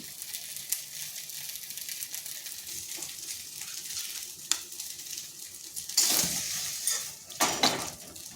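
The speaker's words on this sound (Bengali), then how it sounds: "এইভাবে আমি সবগুলো ভেজে নিচ্ছি।" Pumpkin pieces fry in a pan with a continuous crackling sizzle, broken by utensil clinks and stirring, and a louder burst of spattering toward the end.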